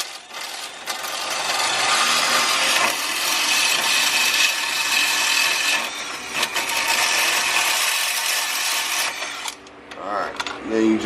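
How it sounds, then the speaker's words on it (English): Drill bites and rubs against the material around a hole while fitting a front splitter on a Dodge Charger Hellcat, a harsh continuous grinding rasp that pauses briefly and tapers at the end. "Just give it a little bit of drill to like kind of stretch the hole a little bit."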